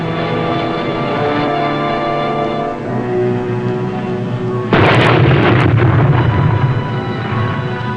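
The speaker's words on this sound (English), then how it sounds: "Driving in on a surface attack, Griffith used 4 torpedoes and 4 minutes to sink the largest of the vessels" A heavy torpedo explosion from the WWII submarine Bowfin's surface attack on an enemy vessel bursts loud and broadband about midway, cutting across a sustained dramatic orchestral score and rumbling on beneath it.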